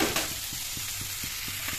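Steady sizzling of food frying in a pan, with regular scraping taps of a spatula stirring every quarter second or so.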